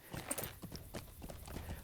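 Horse hooves clip-clop at a steady trot in a Lord of the Rings Online video game, the faint rhythmic clopping continuing evenly with a soft background bed and no talk.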